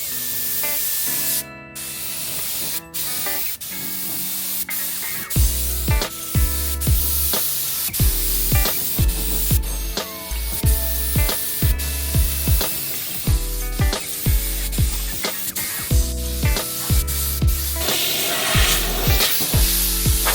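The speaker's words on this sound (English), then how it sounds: "you saw us spray our epoxy primer on it on the bare steel" A spray gun lays epoxy primer onto bare steel in repeated short hissing bursts with brief pauses between them, close and steady, with no talking.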